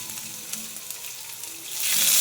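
Cumin seeds, garlic and chopped ginger sizzle in hot oil with a close, crackling hiss that swells sharply louder near the end as more goes into the pan.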